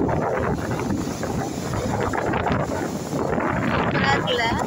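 Strong sea wind gusts across the beach at Tiruchendur, roaring steadily into the microphone with a wash of surf underneath, while a person talks over it.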